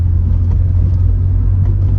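Steady low rumble of an early-2000s German convertible's manual 3-litre straight-six engine and exhaust, a smooth, fairly loud idle or cruise drone with no voices.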